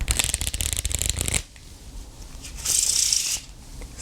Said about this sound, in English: go pick up your favorite deck of playing cards and let's get down to learning the Riffle Shuffle